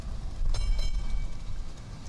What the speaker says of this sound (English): as Sunderland Tram number 16 passes him by.